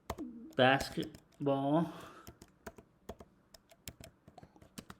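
Computer keyboard keys clicking in scattered, sharp taps on a Mac, following a short stretch of a person talking near the start.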